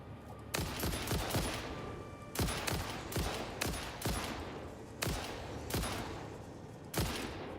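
Gunfire in the video game Satisfactory: a series of loud, echoing shots, some single and some in quick pairs, spaced out over several seconds, each ringing off with a decaying tail.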